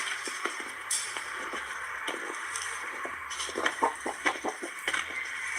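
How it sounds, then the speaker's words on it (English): Chickens clucking around feeding time at a home, scattered soft clucks and calls with some pecking and tapping over a steady outdoor background. "So now I want to feed the chicken."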